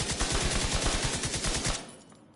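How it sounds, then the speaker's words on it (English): Assault rifle fire in the video game The Division 2, a rapid automatic burst of sharp, evenly spaced shots close up, lasting about two seconds before stopping and fading out, with no talking. "now, this is my assault rifle"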